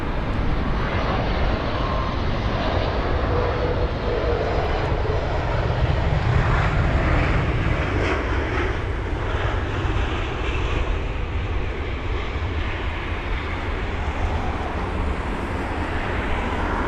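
A 21-year-old Airbus A320-200 arriving at London Heathrow, a loud, steady jet engine roar that fills the whole stretch with broad rumbling noise and no pauses.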